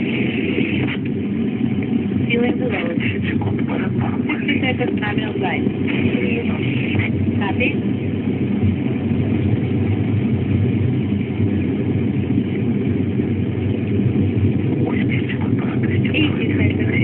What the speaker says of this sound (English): all systems are working well as the Soyuz continues its climb into orbit